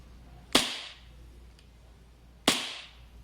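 An EMG Salient Arms International BLU S airsoft gas blowback pistol fires two sharp, snappy shots about two seconds apart, each a crisp crack with a quick hissing decay, close and loud with no talk.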